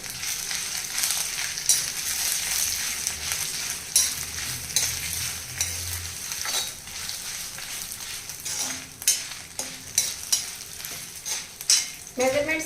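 Broken dried red chillies frying in hot oil, a constant close sizzle with repeated spoon scrapes and stirring knocks against the pan, steady over several seconds.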